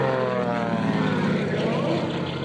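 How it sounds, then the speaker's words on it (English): A propeller airplane's 500-horsepower Pratt & Whitney radial engine roars overhead with a throbbing, rough drone, loud and steady for a couple of seconds, with a voice faintly underneath. "Now he's going to let us listen to the sound of that Pratt & Whitney 500-horse engine"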